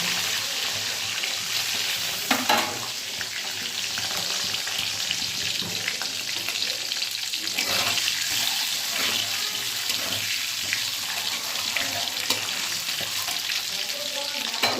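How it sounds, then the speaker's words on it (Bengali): Potatoes fry in a pan of oil for an egg curry, giving a continuous close sizzle with a few light stirring knocks scattered through it. "আলুগুলো ভাজবে বসিয়ে দিয়েছি"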